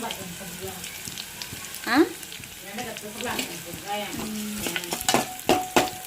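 Curry leaves dropped into a hot pan give a sudden crackling sizzle, followed by a few softer spits and clinks of stirring, with light household noise around it.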